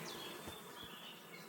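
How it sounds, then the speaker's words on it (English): Bees buzz in a medieval video game setting, a faint steady insect drone with a thin whining tone drifting over soft ambient noise, no speech. "Yeah, bees."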